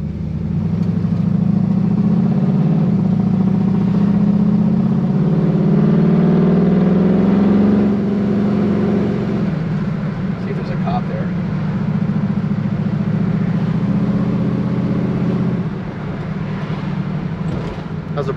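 A 1969 Camaro V8 engine hums steadily at close range, rising slightly as it accelerates and then settling into a smooth, continuous drone while driving.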